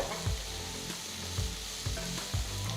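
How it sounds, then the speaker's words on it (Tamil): Onions sizzle steadily in a hot pan, sautéed until golden with curry leaves for egg pepper masala, with a few soft stirring scrapes at regular intervals. "வெங்காயம் பொன்னிறமாகிற வரைக்கும் வதக்குங்க"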